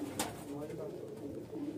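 Female pigeons cooing softly at close range, a low murmuring coo that runs through the whole stretch, with a voice speaking faintly over it.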